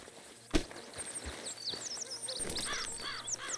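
Horse hooves clip-clop in Red Dead Redemption 2, a few faint, uneven hoof strikes in an outdoor scene with birds chirping in the background.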